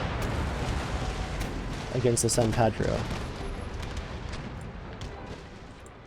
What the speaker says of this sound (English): There's a broadside on the Brilliant a bit early, but we had to.